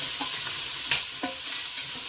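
Chopped celery and onion being stirred in a pot for ground beef soup, with faint scraping and light sizzling and a few soft utensil clinks, steady and close with no talking.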